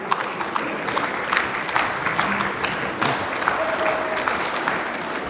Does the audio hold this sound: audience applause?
yes